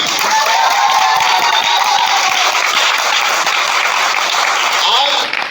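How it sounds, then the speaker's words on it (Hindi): Loud applause rises from attendees at a one-day workshop in a Lucknow hotel, a dense, roaring clatter of clapping close by and sustained at full strength before easing off at the very end. "यस ऐसे ही बस जोरदार ताली"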